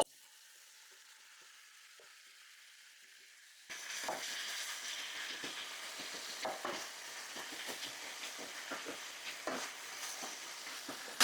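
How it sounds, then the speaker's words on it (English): Peppers and onions dropped into hot olive oil in a stainless steel skillet, quiet at first, then a sudden loud sizzle that settles into a steady close crackle with scattered pops and spatters. "So we're going to start off cooking our peppers and onions."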